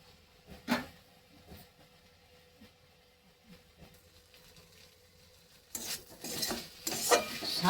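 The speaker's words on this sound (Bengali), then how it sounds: "শাক আর একটু হবে বা নেড়ে চেড়ে নামিয়ে দিই।" Saag, leafy greens cooked with onion, stirred in a pan: a few faint scattered clinks, then louder scraping and rustling strokes of the spoon over the last two seconds.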